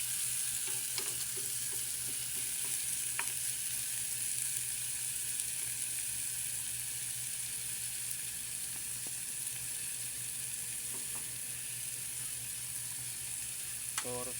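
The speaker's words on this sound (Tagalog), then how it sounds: "bawang, gisa natin siya" Garlic sautéing with onion and tomato in a pan, a continuous even sizzle throughout with occasional faint scrapes of stirring.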